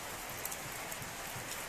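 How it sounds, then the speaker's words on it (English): Steady rain falls outdoors in Manali, a soft continuous hiss of drops with faint scattered taps, heard alone without voices. "No people right now, it's raining."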